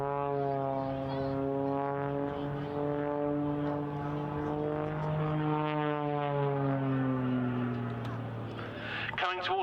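Extra 330SC aerobatic plane at an air display, its engine droning strongly and rising and falling in pitch through a manoeuvre, with a commentator talking over it.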